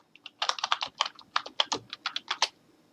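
Password keys tapped on a computer keyboard during a Windows Server 2019 setup in VirtualBox, about twenty quick, crisp, close keystrokes in an uneven rhythm, with no talking.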